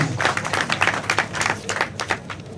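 An audience at a political coalition launch breaks into applause. It is a dense, close burst of rapid, uneven hand claps lasting a few seconds.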